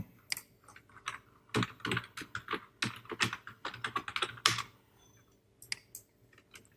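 Code being typed on a computer keyboard during a Laravel web-development session, with quick close bursts of clacking keystrokes in irregular runs, pausing briefly before a few final taps, no talking.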